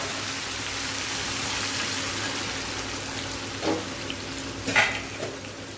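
Chopped tomato, ginger and asafoetida fry in hot oil for talka dal, a steady close sizzle with a couple of soft stirring clinks near the end.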